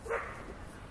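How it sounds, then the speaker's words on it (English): A dog gives a single short, faint bark early on, followed by a low background hum with no further barking. "Sorry for the barking dogs"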